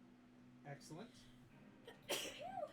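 A single sharp sneeze bursts out close by in the middle of a tabletop role-playing game session, cutting between stretches of people talking.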